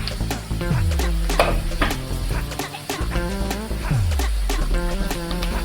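Wild greens going into a pan of cooked onion for a Maharashtrian vegetable dish, a loud continuous sizzle with rhythmic stirring scrapes and occasional clinks of a spatula against metal.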